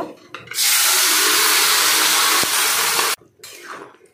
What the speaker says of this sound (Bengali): এবার আমি সিদ্ধ করে রাখা শাকটাকে এর মধ্যে ঢেলে নেব।